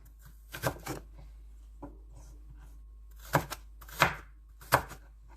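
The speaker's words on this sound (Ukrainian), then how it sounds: "І нарізаємось не такими великими шматочками, ось такими от як брусочками." Several sharp knife strokes cut a medium carrot into sticks on a cutting board, arriving as a short burst, a single chop, then three spaced, fairly loud cuts with quiet gaps between them.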